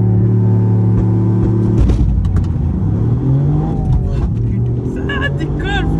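Toyota Yaris GR with stage 3 tuning launching hard from a standing start, a loud close engine rev climbing through the gears with a rising whine, while people talk excitedly over it.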